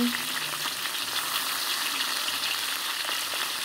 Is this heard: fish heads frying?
yes